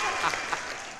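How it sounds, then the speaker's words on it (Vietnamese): Studio audience on a TV singing show bursting into clapping, a dense wash of applause for about a second. "Cho một tràng pháo tay vừa đã vừa sướng."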